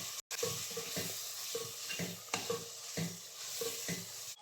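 Masala being stirred and fried in a pan for biryani: a sizzle runs under repeated rhythmic scrapes and clanks of a spoon against the pan, moderately loud and close, with no talking.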